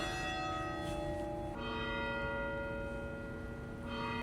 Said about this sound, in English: There's the bells ringing now.